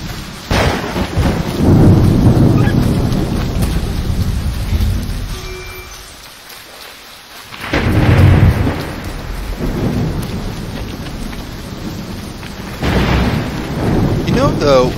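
Game-world thunderstorm in Assassin's Creed 3: steady heavy rain hissing throughout, with loud rolling thunder swells, a near-silent lull in the middle, then renewed downpour; faint voice beneath.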